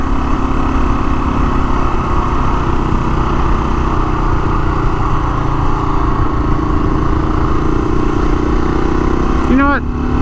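A Honda XL500 dirt bike engine drones steadily and loudly while riding, a constant close motor hum with wind noise, plus a brief chirping sweep near the end.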